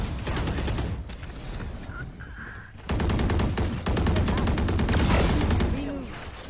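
Video game gunfire in a tactical shooter match, loud rapid bursts of automatic shots in long rattling strings, with players talking over the shooting.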